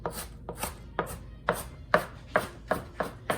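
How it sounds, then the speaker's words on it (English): A knife chops onion and other ingredients steadily on a cutting board, about a dozen crisp, evenly spaced knocks, close by and with no voices. "I can chop many ingredients on here, just move them aside and just keep chopping."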